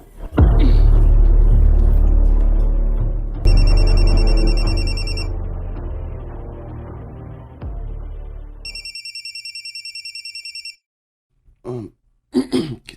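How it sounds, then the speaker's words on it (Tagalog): A telephone rings twice in a Filipino drama episode, each time as a bright, repeating electronic trill. The first ring plays over loud, rumbling background sound. The second rings nearly alone and is followed by brief scattered noises. "Kitsa may nanawag."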